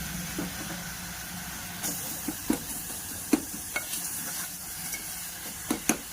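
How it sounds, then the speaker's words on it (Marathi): Tomatoes and a little coriander being sautéed in fried masala in a pan, giving a steady soft sizzle with scattered clinks of a stirring spoon against the pan, close and moderately quiet. "मी आता त्याच्यामध्ये टमाटे आणि थोडीशी कोथिंबीर टाकून छान परतून घेते."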